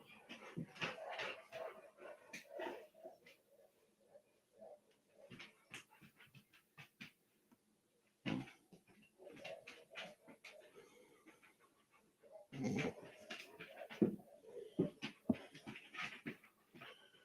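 Labrador dogs panting and whimpering nearby in a quiet room, with irregular bursts of breathy panting, small whines and a few soft knocks separated by short pauses.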